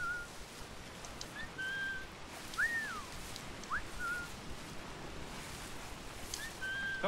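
Whistling in the pirate game Assassin's Creed IV: Black Flag, a few short rising and falling whistled notes spaced apart over a faint windy outdoor ambience, fairly quiet and clear.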